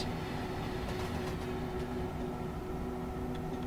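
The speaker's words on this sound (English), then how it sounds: "There's a 186. Very nice locomotive." A Class 186 electric locomotive rolls past in Train Simulator 2022 on a high-speed route to Strasbourg, a steady rumbling rail drone with faint wheel clatter, continuous and even, with no talk over it.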